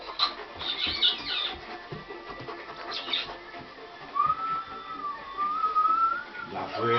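Whistling at a pet, with short shrill bursts early on and a longer wavering whistled tone later, over household background noise and faint voices.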